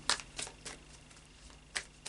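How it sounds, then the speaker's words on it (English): A deck of Tarot of Dreams cards is shuffled by hand, giving several soft, papery riffling bursts at an irregular pace, close by and quiet, with no talking. "So we'll just do a final shuffle"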